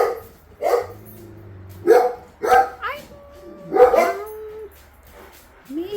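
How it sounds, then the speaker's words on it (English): Several dogs bark in loud bursts near a person knitting at home, sharp barks and yips repeating in clusters with short gaps, one drawn-out whine between them. "The dogs are nice and loud."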